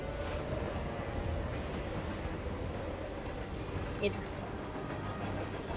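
A moving train in the video game Hitman World of Assassination, a steady rumbling roll with faint rattling that runs the whole time under a brief spoken remark.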